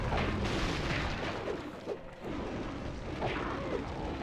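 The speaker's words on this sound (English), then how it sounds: "this is the fire ability that we unlocked" Spyro's fire breath roars continuously in The Legend of Spyro: A New Beginning, a steady rushing blast of flame with low rumbling booms, loud throughout and without talk.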